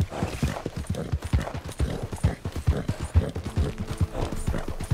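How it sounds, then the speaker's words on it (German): Rhythmic clip-clop of horse hooves trotting steadily in the video game Red Dead Redemption 2, fairly close, with a soft background hum and no voices. "Hier kam ein Pferd."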